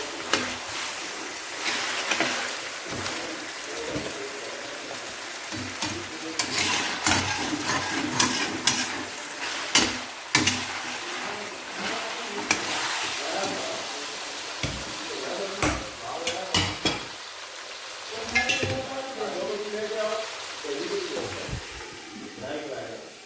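Tomato halves fry in oil in a pan while making a Peshawari Shinwari beef karahi, giving a crackling sizzle with scattered pops and spatters and someone speaking over it.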